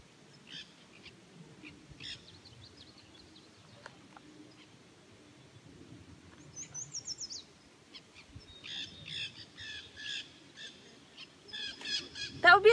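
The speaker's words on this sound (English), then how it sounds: "That would be the wild parrot population that is not native to California." Wild non-native parrots in California call in bursts, faint at first then louder and more frequent toward the end, with shrill chattering squawks over a quiet outdoor background.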